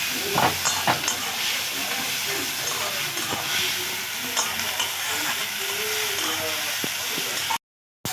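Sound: frying onions and tomatoes with salt

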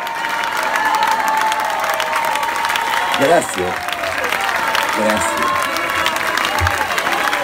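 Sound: pub concert audience applauding a musician

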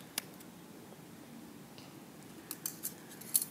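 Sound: scissors cutting string for a Barbie keychain

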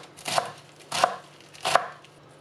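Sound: chopping celery leaves with a knife

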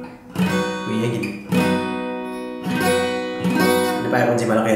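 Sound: acoustic guitar chords strummed

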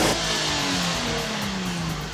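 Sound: Porsche sports car engine accelerating on track

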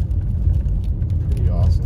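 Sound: car driving over a dam

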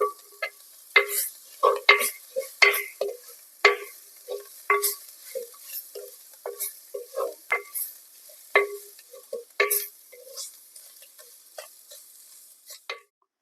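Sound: stirring ground masala into frying dried fish and drumstick leaves

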